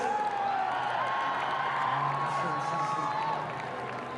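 Crowd at a netball match between Australia and South Africa, a steady roar of cheering and whooping that fills the arena evenly and fades slightly near the end.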